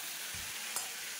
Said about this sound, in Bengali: দুটোতেই মাছ ভাজা বসিয়ে দিলাম।